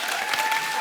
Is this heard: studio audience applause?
yes